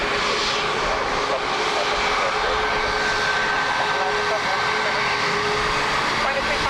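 An airplane comes in to land at Dublin Airport, its engines a loud, steady roar throughout, with radio voices talking over it.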